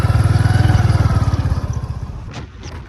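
A motorcycle engine pulls away on the road, a loud, rapid throbbing that fades steadily as the bike moves off, leaving a quieter background.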